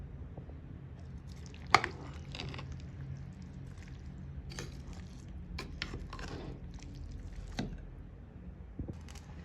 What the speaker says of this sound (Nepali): चामल एड गरेर अब मैले यसलाई मिक्स गर्दैछु।